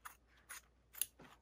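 Scissors trim leftover quilting fabric in four quick, quiet snips, evenly spaced, close by and alone.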